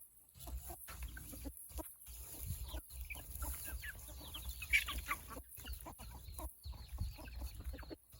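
Chickens cluck and murmur around a rural farmyard in repeated short bursts, close and moderately loud, with brief pauses between calls and no talking.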